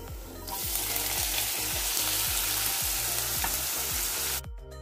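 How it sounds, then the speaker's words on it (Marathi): Chopped onions hit hot oil in a kadai with a sudden loud sizzle that holds steady and close, with faint rhythmic scraping beneath. The sound cuts off abruptly near the end. No one speaks. "आता आपण कढईमध्ये 2 पाया तेल तापत ठेवलं आहे, त्यावर आपल्याला आता कांदा घालून घ्यायचा आहे."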